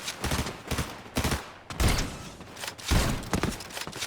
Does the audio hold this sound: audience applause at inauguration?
no